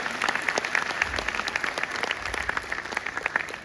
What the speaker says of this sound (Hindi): तालियों की कमी नहीं रहनी चाहिए।